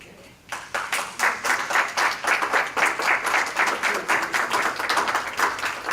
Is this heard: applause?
yes